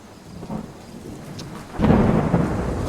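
Thunder rumbles low and steady, then swells into a louder, broad roar that sounds like a storm building, with rain starting to patter under it. No one is talking.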